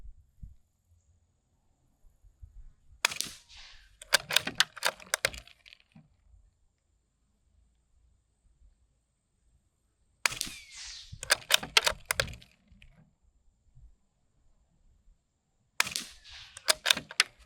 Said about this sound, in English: we're just shooting a 22 up close. Doesn't kick much. It's not very loud